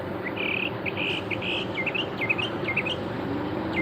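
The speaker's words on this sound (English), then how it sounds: "What's those birds? Do you hear that?" Birds chirp outdoors near a drive-thru, a repeated series of bright, loud tweets and short calls over a constant low traffic rumble.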